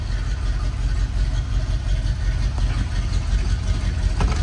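A restored 1956 Corvette convertible's 265ci V8 idling just after a cold start, a steady, even low rumble heard up close with no revving.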